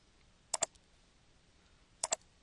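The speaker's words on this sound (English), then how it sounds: "I click on Connect" Two quick double clicks of a computer mouse pressing on-screen buttons, sharp and close, spaced about a second and a half apart over a quiet background.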